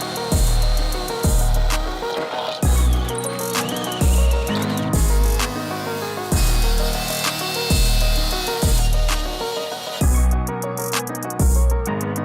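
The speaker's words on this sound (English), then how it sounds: "So let's start scraping and start drilling." Scraping and drilling on the body of a crashed Porsche GT3 RS produce a steady, harsh grinding rasp, with rhythmic strokes about once a second and bright whining tool noise throughout, close and loud.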